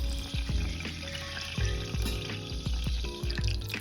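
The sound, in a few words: rosemary and bay leaves frying in hot oil in a saucepan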